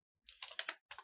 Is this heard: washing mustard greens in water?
no